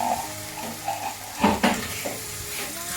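Sauce is poured over Kung Pao chicken in a hot pan and stirred in. A sizzling hiss runs under a few scraping utensil strokes, with a louder burst of sizzle in the middle as the liquid hits the pan.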